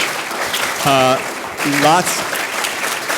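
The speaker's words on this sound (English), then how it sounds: "Let's give our panel a round of applause." Audience applause for a panel at an ocean symposium: a steady wash of clapping fills the clip while a couple of voices talk briefly over it.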